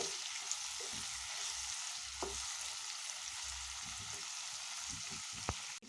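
Capsicum pieces fry in a pan with a continuous close sizzle, broken by a few soft scrapes and one sharp knock as they are stirred.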